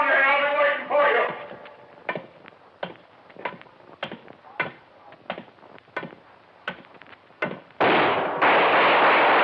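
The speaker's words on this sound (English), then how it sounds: "Good shot, Dollar." Gunshots ring out in a radio detective drama, a series of sharp, close cracks spaced irregularly over several seconds, with people talking before and after.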